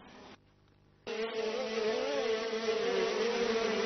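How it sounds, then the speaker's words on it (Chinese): Wild honey bees drone as a close, steady buzzing while a cluster is scooped by hand from the hive. After a quiet opening moment the hum swells and holds at a constant level, with no voices. "哇，你说是抓了一团蜜蜂"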